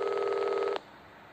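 A phone rings in the Reporter Chapter 2 video game, a steady electronic ring tone that holds loud and clear for most of a second, then cuts off abruptly into quiet room tone.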